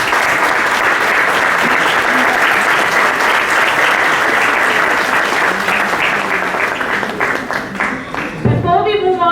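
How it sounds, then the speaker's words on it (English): Audience at a supply chain and operations conclave applauds the panelists, a loud, dense burst of clapping that holds steady for several seconds before thinning out, with a voice emerging at the end. "Let's give them all a big round of applause."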